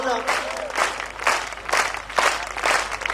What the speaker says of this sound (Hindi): अपने लिए बजा दो तालियों